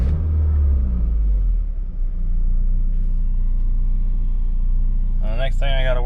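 A 1994 GMC Sonoma pickup with the 2.2L four-cylinder idles steadily and close by, a low continuous rumble that holds even throughout, with a brief higher-pitched squeal or whine near the end.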